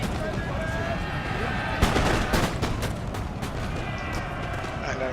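Musket volley fire in a Napoleon: Total War online battle, a burst of overlapping gunshots near the middle followed by scattered shots over a steady battlefield din, with someone talking throughout.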